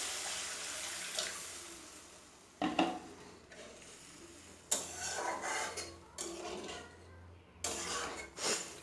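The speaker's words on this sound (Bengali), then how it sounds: "এখন জল দিয়ে দিব।" Water is added to a pan of hilsa bhuna in a home kitchen, with splashing bursts of pouring and sizzling mixed with clinks of utensils against the pan, fairly quiet and close.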